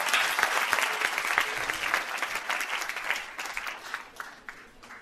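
Audience applause at a Jain monk's discourse gathering in Jahazpur: dense, steady clapping from many hands fills the room, fairly close and sustained, tapering slightly toward the end with no voices over it.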